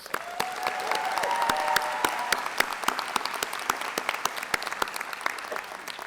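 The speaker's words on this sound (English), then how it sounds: "let's give her a special round of applause" A convocation audience gives the dean a sustained round of applause, a crowded wash of sharp, rapid claps holding steady for several seconds, with a brief tonal cry or whistle rising through the opening.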